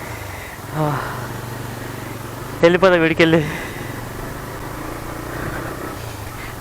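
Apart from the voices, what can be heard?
motorcycle engine running after start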